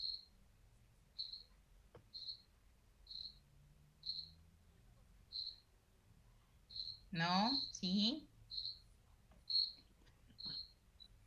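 A cricket chirps in regular, evenly spaced bursts about once a second, close and clear, while a voice briefly speaks in the middle.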